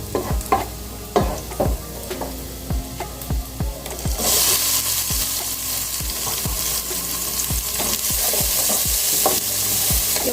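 Garlic and small tomato browning in a pan: repeated scraping stirs over a soft sizzle that swells into loud, steady frying, close and with no talk.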